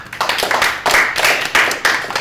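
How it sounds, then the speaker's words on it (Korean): Applause from an audience at a Korean unification gathering, steady dense clapping that swells in brief waves over a couple of seconds. "박수 한번 보내주시죠."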